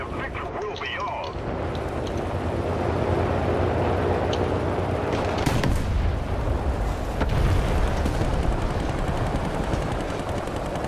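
Enemy tank fire striking the player's M4A1 tank in the War Thunder video game: a loud, steady rumble of engine and battle noise with a couple of sharp, booming impacts in the second half, and a voice murmuring faintly underneath.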